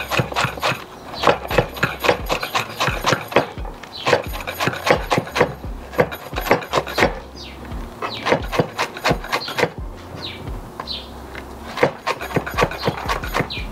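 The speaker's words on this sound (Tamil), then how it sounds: "இந்த மணத்தக்காளி கீரையை நல்ல குட்டியாக அரைஞ்சி கட் பண்ணுறேன்." Kitchen knife chopping black nightshade (manathakkali) greens finely on a board, a rapid run of close, crisp wooden taps with brief pauses, continuing steadily throughout with no talk.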